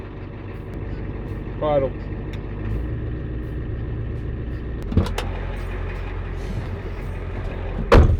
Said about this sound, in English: Let's start this old girl up and get some food and head to the campsite.